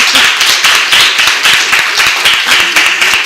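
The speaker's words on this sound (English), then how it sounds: "Give them a round of applause." A community forum audience gives a round of applause: dense, loud, steady clapping from many hands, continuous for the whole stretch with no voices over it.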